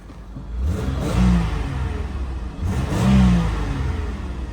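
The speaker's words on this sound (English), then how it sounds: "Let's just give her a quick little rev, a cold rev here." A cold 1994 Buick Park Avenue engine gets two quick revs, each one swelling up and then falling back to idle. The engine is close and fairly loud, with no talking.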